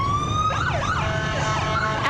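Ambulance sirens wail as a procession of ambulances carrying fallen firefighters rolls past in a city street, a steady rising and falling siren tone up close, with a sharper whoop near the end.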